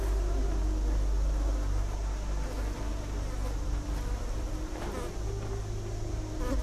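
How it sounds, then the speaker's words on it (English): Flies buzzing in the fantasy game Enderal, a constant close insect drone with a low steady hum underneath, alone without talk. "So not bees, flies."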